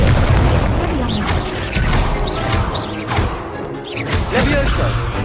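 In Hogwarts Legacy, a fire spell erupts in repeated booming, crashing blasts with whooshes and rattling impacts. The bursts arrive in rapid succession, dense and loud, and game voice sounds are mixed in among them.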